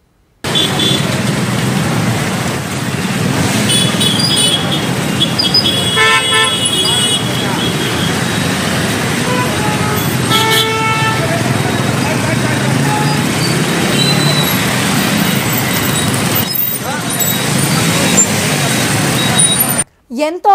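A Madhapur traffic police motorcycle rally for helmet awareness rolls through traffic. Engines drone constantly, several car and bike horns toot at intervals, and voices carry over the noise.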